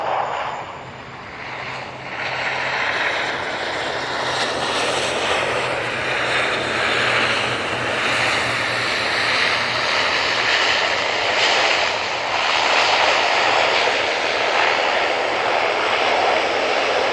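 Airliner engines roar steadily at Manchester Airport, a loud broad rumble that holds strong for about seventeen seconds with a brief dip near the start, close and continuous with no voices over it.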